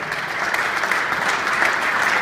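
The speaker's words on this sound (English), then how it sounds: "Let's give him a round of applause for that." An audience at a Capitol Hill hemp event breaks into continuous, dense applause for a keynote speaker, steady and fairly loud throughout.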